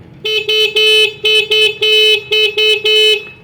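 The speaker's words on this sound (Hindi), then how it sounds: "हॉर्न का भी साउंड सुना देता हूँ आपको।" A 2025 Yadea Epoch electric scooter horn beeps repeatedly in short bursts, about eight honks of varying length, loud and close, with no talking.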